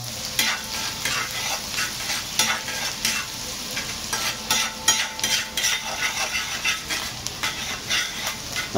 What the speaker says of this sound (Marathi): आणि कांदा जरा गरम करून घेऊ, चांगला व्यवस्थित शेकून घेऊ आपण कांदा